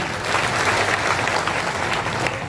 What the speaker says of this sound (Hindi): एक बार नीतीश कुमार और नरेंद्र मोदी जी के लिए तालियां बजाएं